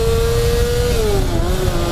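A Honda CBR250RR motorcycle engine is ridden on the throttle, a loud close steady engine note that holds high, then drops in pitch as the revs ease off, with constant road and wind rush underneath.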